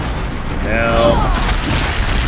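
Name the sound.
disc launcher firing at Thunderjaw in Horizon Zero Dawn video game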